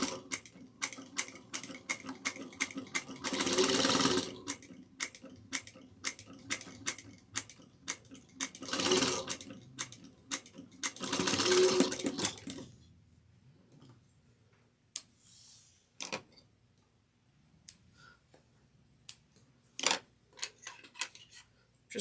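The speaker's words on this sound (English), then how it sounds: "We're just going to sew this down." A sewing machine stitches down a woven tote bag in several loud bursts of rapid mechanical clatter separated by pauses, with scattered clicks and handling noises in between, heard close and without talk.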